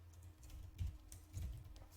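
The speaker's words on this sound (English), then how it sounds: "we're going to just type in our own text." Computer keyboard keys being typed on, a few soft close taps in quick succession over a low hum, faint and without speech.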